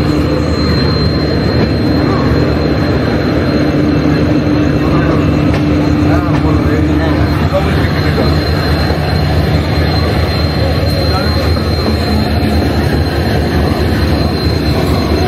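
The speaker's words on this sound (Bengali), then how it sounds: "আমাদের ট্রেন এসে পৌঁছে গেছে পুরী প্ল্যাটফর্মে" A passenger train pulls into the platform at Puri railway station, a loud continuous rumble of wheels and carriages with a faint squeal of wheels and a high steady whine, close by.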